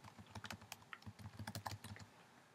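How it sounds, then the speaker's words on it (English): Arrow keys on a computer keyboard tapped repeatedly in quick uneven bursts, close and crisp, with no talking. "I'm just going to hit my up and down arrow keys to nudge it."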